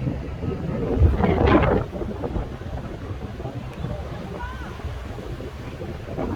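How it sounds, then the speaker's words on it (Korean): Strong wind buffeting the microphone while riding scooters on Jeju Island, a loud continuous roaring rumble that peaks in a heavy gust early on, with brief voices underneath. "바람 왜 이러는 거야?"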